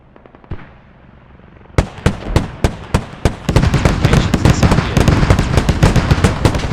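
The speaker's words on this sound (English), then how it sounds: "this artillery strike, it's coming in a creeping barrage, going to sweep upwards, south to north" A creeping artillery barrage in a video game sets off a rapid series of sharp, loud explosions. They start as a few spaced booms, then come in a dense, rolling string of close blasts.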